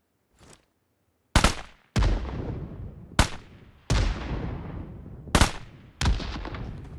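Bazooka-like weapon in PUBG Mobile firing six sharp, loud blasts at irregular intervals, each followed by a rumbling tail, with a faint shot before them and no talking.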